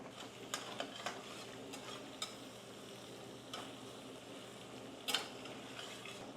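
Corned beef hash frying quietly in a pan, a soft steady sizzle with occasional light clicks and scrapes of a utensil, one sharper clatter near the end.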